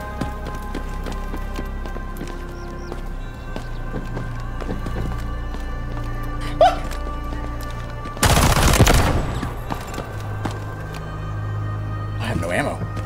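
A short, loud burst of gunfire cuts through the steady background of the video game Delta Force late in the stretch, with a single sharper crack a little earlier. A voice talks over the game sound throughout.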